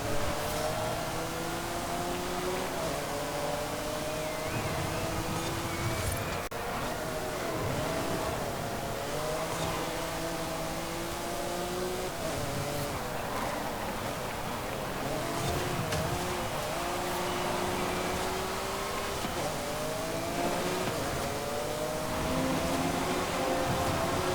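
Ferrari race car in Forza Horizon 5, its engine droning and revving continuously with rising and falling pitch through gear changes, loud and close, with no talking.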